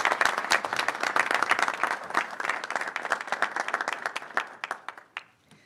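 Warm applause from a ceremony audience welcoming a speaker at a physical therapy white coat graduation, with individual claps standing out before it thins into scattered final claps and fades out.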